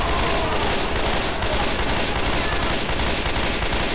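Continuous rapid gunfire from a modded Left 4 Dead 2 session, dense loud bursts of automatic shots filling the whole stretch without pause, with no clear talk over it.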